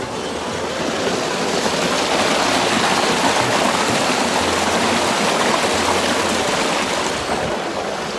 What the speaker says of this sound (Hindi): ट्यूबवेल मैंने चला दिया है